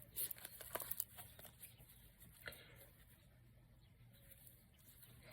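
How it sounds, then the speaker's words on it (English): Soft papery riffling and tapping of oracle cards being shuffled close by, busier at first and then fading to a quiet rustle. "bear with me with my shuffling"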